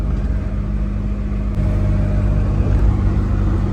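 A Maruti Alto after engine repair, driving on a highway: a steady mid-pitched engine hum with road and wind noise, heard from inside the car and rising slightly toward the end.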